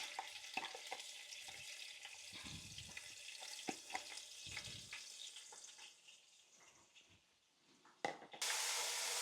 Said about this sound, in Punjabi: ਅਦਰਕ ਲਸਣ ਜਦੋਂ ਘਿਓ ਦੇ ਵਿੱਚ ਭੁੱਜਦਾ